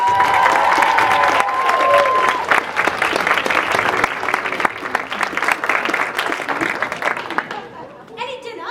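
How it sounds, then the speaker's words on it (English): Theatre audience applause fills the whole stretch, a dense steady clapping from a crowd that slowly thins toward the end, with a voice faintly heard near the start. "a warm round of applause, ladies and gentlemen, for tonight's guest artiste"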